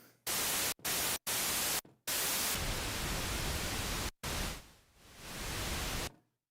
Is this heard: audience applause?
no